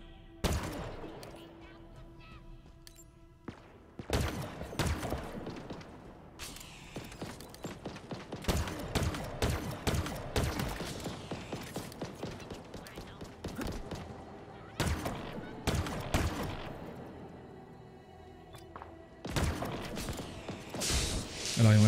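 Sniper and weapon fire in the video game Halo Infinite, a long, busy stretch of sharp cracks and bursts with mechanical clatter between them, dense in some stretches and sparse in others, with a voice talking at times.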